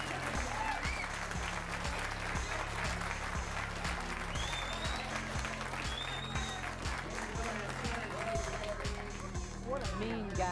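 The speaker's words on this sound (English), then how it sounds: "the crowd is going wild" Crowd at a bank pool match applauding and cheering, sustained dense clapping with shouts mixed in, loud and continuous, while a commentator talks over it.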